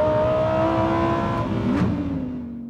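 A naturally aspirated supercar engine revving hard, a loud sustained howl that climbs and then eases off as the car pulls away, fading toward the end with no talk over it.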